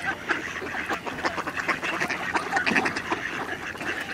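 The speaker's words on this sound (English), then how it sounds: "As I walk through this field of very well-fed ducks." Well-fed ducks in a field, males and females together, quack in a dense, continuous chorus of overlapping calls at close to middle distance, with no voices over them.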